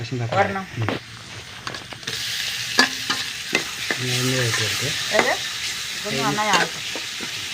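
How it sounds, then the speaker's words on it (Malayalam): Curry being stirred in a pan as tomatoes go in to fry, with a busy sizzle and repeated scraping, clattering spoon strokes in irregular bursts. Close and fairly loud, with no speech. "പിന്നെ ഇളക്കാം പിന്നെ തക്കാളി ഇട്ട് കൊടുക്കട്ടെ"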